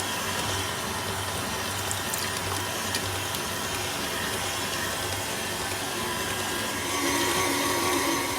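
A stand mixer kneading a high-hydration sourdough at second speed, a continuous dense motor drone with wet slapping churn from the dough, steady and close with no talking.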